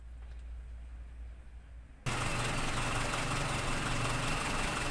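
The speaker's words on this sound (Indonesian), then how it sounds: "Setelah menyala, suara mesin" A Toyota Kijang car engine with a carburetor starts up and settles into a steady, loud, close idle after a quieter stretch of low background hum.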